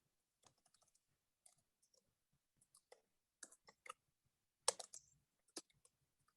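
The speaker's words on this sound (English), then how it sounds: "Somebody's typing." Faint, scattered keystrokes on a computer keyboard, tapped irregularly in small clusters with quiet gaps, one slightly louder burst near the end.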